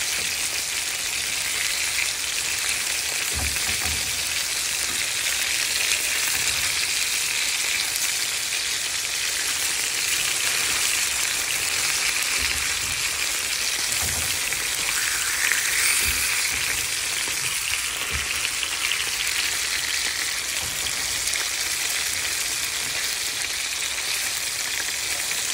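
Hilsa fish fries in a pan, giving a steady, even, broad sizzle that runs without break, with a few soft knocks underneath.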